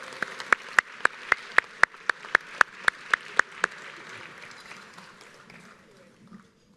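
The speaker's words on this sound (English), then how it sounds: "Give them a nice round of applause, everybody." Audience applause for award winners at an LA County quality and productivity awards ceremony, with a steady series of sharp, evenly spaced claps over a light crowd patter, tapering off and fading out after a few seconds.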